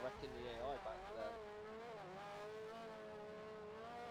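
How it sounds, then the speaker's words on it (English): Race car engine in Forza Motorsport 4, a steady mid-pitched drone with gentle rises and falls in revs, fairly faint and continuous, with a voice talking over it. "The engine audio for these cars is so good."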